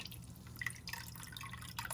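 Water draining and dripping from soaked boneless saltfish, a faint, steady patter of small drips with no talking.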